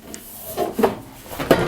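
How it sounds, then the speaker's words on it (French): The door of an EVGA DG-87 PC case is swung open, producing a short series of soft rubbing, scraping and light knocking sounds close up, with no talk. "On ouvre la porte."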